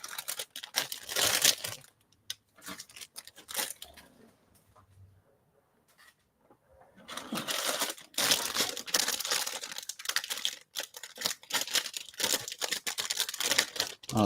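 Plastic model kit packaging crinkles and rustles close up in loud bursts, pausing into near silence for a few seconds before the crinkling resumes.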